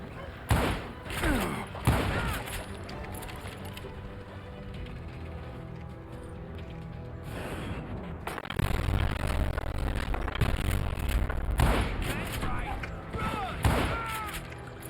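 Gunshots from the Western shooter Call of Juarez: Gunslinger, a few sharp loud bangs scattered through the stretch amid game sounds and music, with a voice talking over parts of it.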